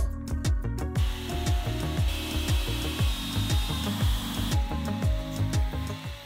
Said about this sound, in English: I'm countersinking these holes for these flush head screws